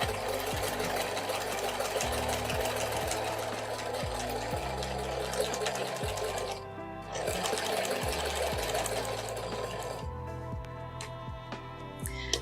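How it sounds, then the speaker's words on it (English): A sewing machine stitching along one side of a quilt, running steadily with a dense mechanical whir and rapid needle rhythm, pausing briefly twice before carrying on, close and fairly loud. "And then I'll sew the rest of this side."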